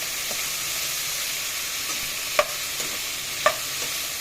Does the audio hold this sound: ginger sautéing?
yes